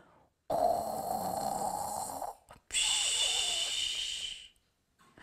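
A voice imitates a deep, rumbling snore, then after a short pause a thin, high-pitched whistling breath, both close and fairly loud.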